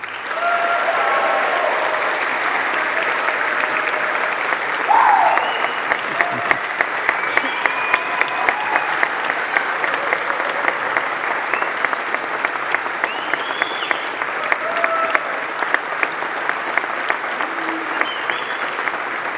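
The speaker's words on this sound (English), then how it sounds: "Give a huge round of applause, please." A large university graduation audience gives sustained, dense applause that continues steadily for the whole stretch, loud and close, with faint voices mixed in.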